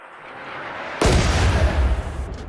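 Mortars fire in the video game RimWorld, opening with a sudden loud boom that rolls into a sustained rumbling barrage of heavy blasts, with no voices over it.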